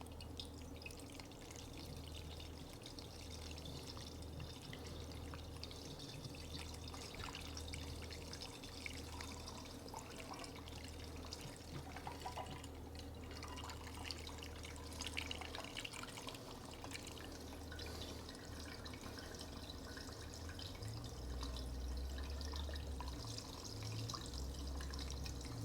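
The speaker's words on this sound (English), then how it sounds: "let's put a little bit of coolant in it" Coolant pours and splashes into a rebuilt 2003 Ski-Doo Rev 600 snowmobile engine, a faint, continuous trickling stream with dripping and splatter that runs unbroken for the full length, with no talking.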